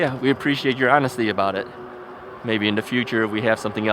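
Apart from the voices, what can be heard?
No distinct noise like a dog, phone or traffic.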